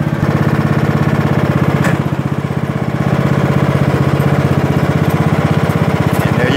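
Craftsman T100 riding lawn mower engine running close by, a loud, steady, rapid chugging drone that holds throughout as the mower begins to move, with no talking.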